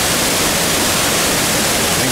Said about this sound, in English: An incredible waterfall.